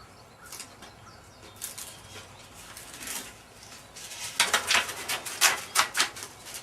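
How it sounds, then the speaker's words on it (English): Grip tape backing being peeled off a skateboard deck, a series of crackly, papery tearing rips that grow louder and more rapid in the second half, close and with no voices. "So just peel this off."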